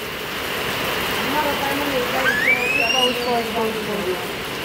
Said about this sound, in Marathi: पाऊस इथं पण पडतोय